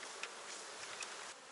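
A strong, crowded honeybee colony at an open hive in autumn, its dense buzzing a steady, soft hum throughout, with no talking.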